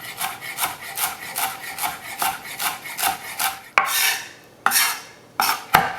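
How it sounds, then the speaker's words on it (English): A very sharp knife slicing a tight bundle of fresh herb leaves on a cutting board, rapid rhythmic cuts in a steady run, then a few slower separate chops, close and crisp with no talk. "Now hold the leaves in a tight bundle and then slice them finely."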